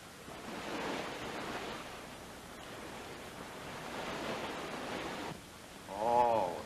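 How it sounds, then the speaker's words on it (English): Sea waves wash against a shoreline heard from inside a nearby tunnel, a steady broad rushing surge that swells and fades for several seconds before ending in a brief tonal swell. "Oh, that's the sea. This tunnel runs very close to the shoreline here."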